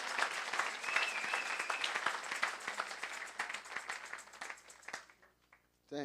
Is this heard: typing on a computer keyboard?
no